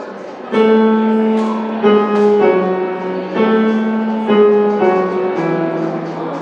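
The Rodolfo and Mimì love theme from the opera La Bohème: a sustained, lyrical melody in piano-like sustained tones, phrases rising and swelling, full and close with no talking.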